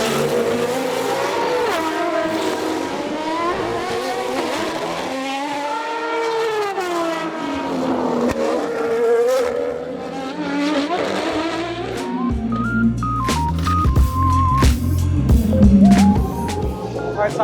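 An Aston Martin Valkyrie race car engine roars on the Detroit street circuit, shifting through gears, pitch climbing and dropping repeatedly, then idles and revs roughly near the end.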